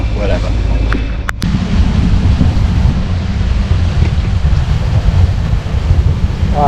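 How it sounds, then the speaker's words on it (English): Big ocean waves rush and crash around a sailboat at sea in rain and gusty wind, a steady loud roar with wind buffeting the microphone throughout. "There's a lot of big waves, so it keeps slowing us down."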